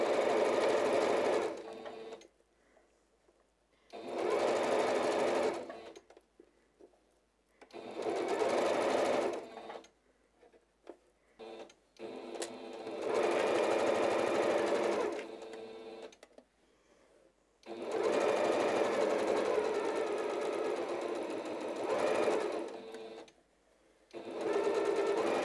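Sewing machine running in several sped-up bursts of rapid, steady stitching, each lasting a few seconds and separated by short pauses, close and fairly loud with no talk.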